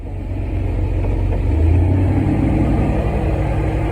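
A 1995 Chevy G20 van's 4.3 engine with a rebuilt throttle body runs steadily nearby, a loud, smooth low rumble that swells slightly partway through and then settles into an even idle.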